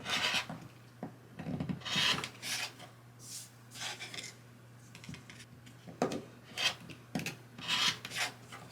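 Rotary cutter or blade trimming quilt fabric half-square-triangle blocks against a 45-degree ruler, giving a run of short rasping, rubbing strokes that come in irregular bursts, close and moderately loud with no talking.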